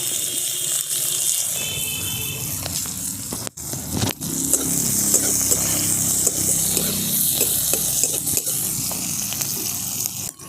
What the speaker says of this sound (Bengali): দিয়ে দিচ্ছি কেটে রাখা পেঁয়াজ।